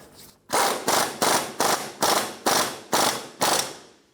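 A ratchet snugs down the front wheel hub nut on a 2003–2007 Infiniti G35 in about eight evenly spaced, close, loud clicking strokes, alone with no talk.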